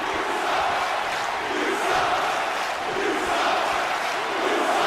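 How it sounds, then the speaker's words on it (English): Wrestling arena crowd jeering manager Bobby Heenan, a loud, steady roar of booing and shouting voices that swells and ebbs across the whole stretch. "This crowd letting Heenan know what they think about him"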